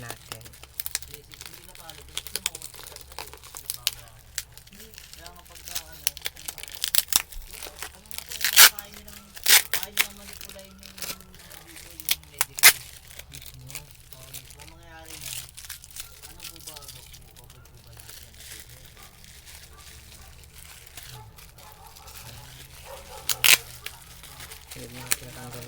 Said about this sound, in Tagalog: Here is ang kapal ulit ng bubble wrap guys.